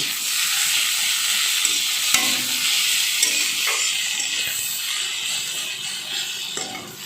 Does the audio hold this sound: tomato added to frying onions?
yes